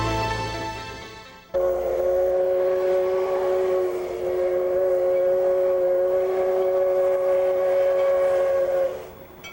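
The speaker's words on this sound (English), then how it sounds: "the Lahaina, Ka'anapali, and Pacific Railroad has been running along Maui's west side since the late 1960s." The Lahaina Kaanapali and Pacific Railroad sugar cane train on Maui sounds a long, loud, steady two-tone whistle that holds for several seconds before cutting off, over a low rumbling background.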